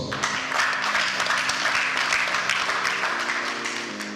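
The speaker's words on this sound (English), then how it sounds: "Let's give ourselves a round of applause." A conference audience applauds loudly and steadily for about four seconds, dense clapping over sustained background music that shifts pitch near the end.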